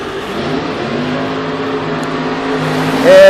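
Drag racing trucks, including Justin Brusso's S10, with a steady engine drone on the racetrack that swells into a louder rising rev near the end, with no talk.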